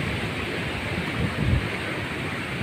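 Floodwater from a river overflowing after heavy monsoon rain rushes across farmland in a continuous broad roar, swelling slightly for a moment midway.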